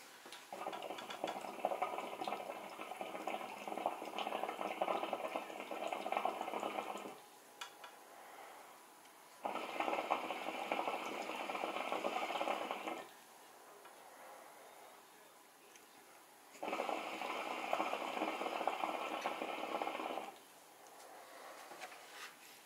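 Hookah water bubbling as air is drawn slowly through Duft tobacco under the bowl cap, three long steady gurgling bursts separated by quiet pauses, close and moderately loud.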